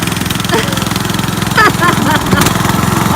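A small farm tractor clipping a field, its engine chugging in a fast steady rhythm close by, with brief rattles and squeaks over the running motor.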